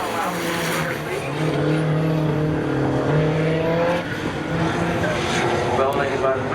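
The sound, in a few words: 1990 Eagle and 1998 Chevy Camaro drag racing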